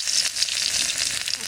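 Garlic fries in a little hot oil as a tempering for dal in a village kitchen, giving off a steady, bright, close sizzle that stays even throughout the short stretch.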